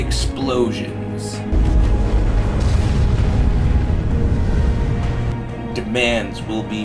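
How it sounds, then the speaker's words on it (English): Deep booming explosions in a parody movie trailer about Craigslist, a sustained loud rumbling blast lasting several seconds with music and voices around it. "Explosions."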